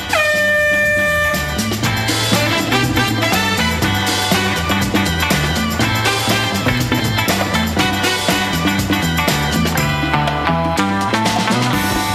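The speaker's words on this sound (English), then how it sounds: "The task will start at the sound of the klaxon." A klaxon blares loudly at the start of a task on a reality TV show, a sustained harsh horn blast, then gives way to busy, upbeat music.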